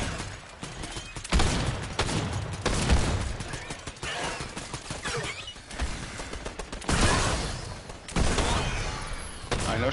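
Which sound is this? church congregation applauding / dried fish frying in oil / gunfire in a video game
gunfire in a video game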